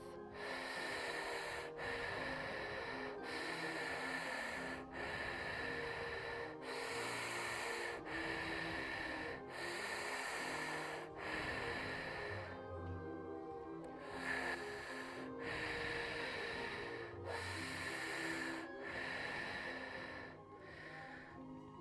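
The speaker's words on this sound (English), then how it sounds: "Continue with your normal in and out pace breath." Steady breathwork breathing, with slow rhythmic inhales and exhales repeating about every two seconds. The breaths are close and audible against a quiet background.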